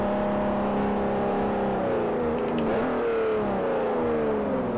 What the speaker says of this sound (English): This V12 engine's mean.